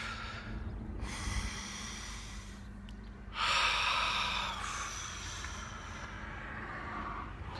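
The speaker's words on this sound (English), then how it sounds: "Let's take another deep breath together." A slow, deep breath is drawn in and then let out, soft and close, with airy rushes of inhale and exhale in a quiet room.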